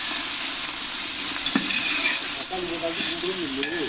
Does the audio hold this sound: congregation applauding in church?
no